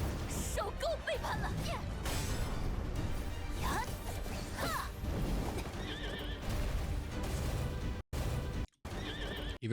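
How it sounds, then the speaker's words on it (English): A horse in a Silver Palace video game boss fight whinnies repeatedly amid galloping hooves, crashing impacts and swooshing effects, all loud and busy with brief dropouts near the end. "Oh, you can parry the horse."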